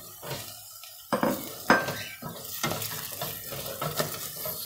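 Diced potatoes tumble into a pot of lightly browned onions, with a clatter of utensils against metal, soft stirring scrapes and a faint sizzle, close and loud in a quiet kitchen.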